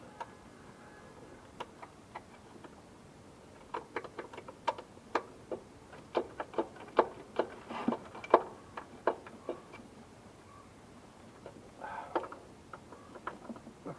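A screwdriver turns a Torx screw on a 2012 Mazda 3 sedan, giving a string of small, sharp ticking clicks that bunch together in the middle of the stretch, close by and fairly quiet, with no voices.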